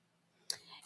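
A single quiet computer mouse click on a Snipping Tool icon in Windows 11, one sharp tap in an otherwise hushed room.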